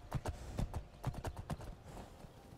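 Horse hooves clip-clop in the Skyrim video game, a brisk run of close, crisp hoofbeats that slows into scattered steps.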